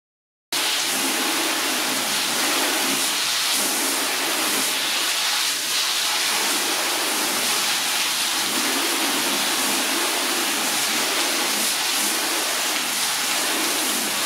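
Water sprays onto a car during a wash, a loud, steady, close hiss that starts abruptly after a short silence and runs unbroken, with no voices.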